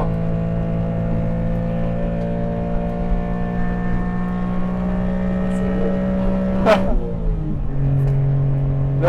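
A Honda Beat's engine hums at steady, high revs while driving on a mountain pass, then briefly drops and climbs again toward the end, with a continuous close drone throughout.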